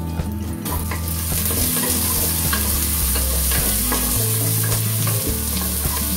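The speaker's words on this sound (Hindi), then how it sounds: "अभी मैं इसमें ये प्याज ऐड कर रही हूँ" Onion frying with two bay leaves in a pan for Bengali shukto makes a loud, continuous sizzle, with stirring scrapes and light clinks of the pan throughout and no one speaking.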